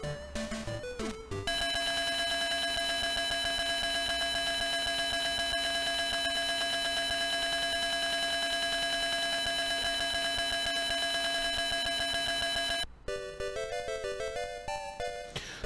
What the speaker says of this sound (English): that was the alarm going off on that door at the exit